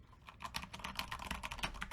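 Fast, steady keystrokes clatter on a Corsair K100 RGB gaming keyboard, recorded close but fairly quiet, with no talking.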